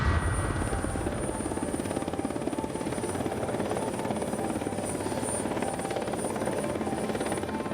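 A helicopter arriving for a rescue after a plane crash in a storm, its rotor thumping steadily and loud throughout with a constant high whine over the chop, no voices.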